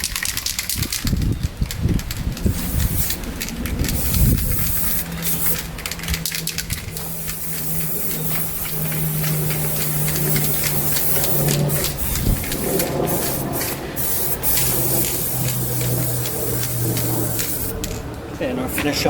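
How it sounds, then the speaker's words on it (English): A final color coat of spray paint goes onto the nose of a Level 3 high-power rocket, a steady close hiss running in long continuous passes with brief breaks. "Going to apply the final coat of color paint."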